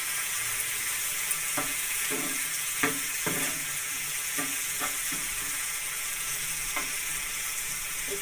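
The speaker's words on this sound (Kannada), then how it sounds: "ಚೆನ್ನಾಗಿ ಫ್ರೈ ಆಗಿದೆ ಟೊಮೊಟೊ ಮತ್ತು ಈರುಳ್ಳಿ ಎಲ್ಲ" Tomato and onion frying in a pan give a loud continuous sizzle, broken by several sharp scraping stirs at irregular intervals, close up with no talk.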